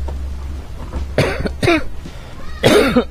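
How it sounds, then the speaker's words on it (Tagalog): A person coughs in three separate harsh bursts spaced about a second apart, close to the mic, over a steady low hum with no talking. "Ay, grabe ubo ko"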